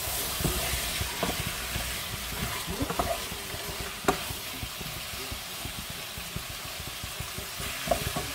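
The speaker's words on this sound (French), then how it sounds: "nous faisons revenir nos morceaux de viande dans les oignons" Beef pieces browning with onions in a pot give a steady, close sizzle and hiss, broken by a few sharp clinks of a utensil against the pot.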